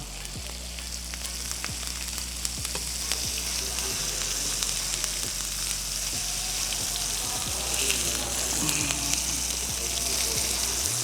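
Fish fries in a pan with curry leaves, a loud continuous sizzle and crackle with sharp pops and spatters throughout, and occasional scrapes as the pieces are turned.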